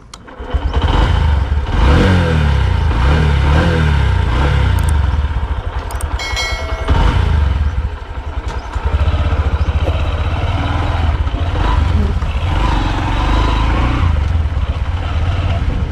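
A 2021 Honda SP 125 BS6 motorcycle with a 124cc engine runs steadily on a test ride, its loud mid-pitched engine drone continuous throughout, with brief revs and gear changes partway through.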